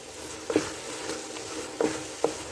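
Carrot halwa roasting in a pan: a soft, low sizzle under a few distinct stirring scrapes of a spoon against the pan, spaced irregularly, close and fairly quiet.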